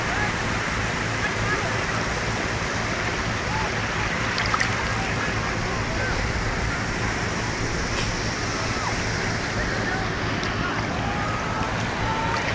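Ocean waves at Cox's Bazar beach in Bangladesh roar continuously in a dense, steady wash of surf that stays loud and unbroken throughout.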